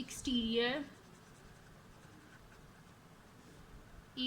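A pen scratches briefly on paper during a maths lesson, a short quick stroke near the start with another just starting at the end, while a teacher talks.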